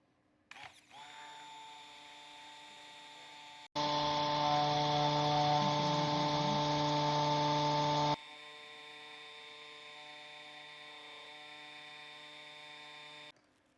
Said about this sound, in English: I'm going to go ahead and immersion blend it.